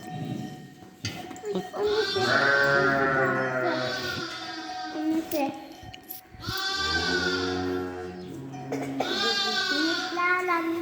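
Several loud, wavering sheep bleats close by, one after another, with brief pauses and a few faint voices between.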